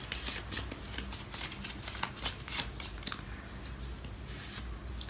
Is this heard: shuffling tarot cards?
yes